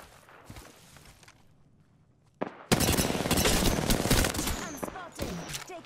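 Bursts of automatic gunfire in the battle royale video game Apex Legends erupt loud and dense after a quieter opening, with rapid shots and impacts continuing to the end.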